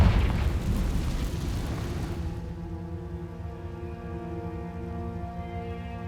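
Confringo blasting spell detonating in Hogwarts Legacy: a single loud booming blast at the start that rolls off into a sustained low rumble and ringing tonal hum, with no voices.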